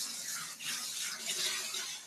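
Running water rinses a human hair piece under a tap, a steady close splashing hiss that stays constant throughout with no talk.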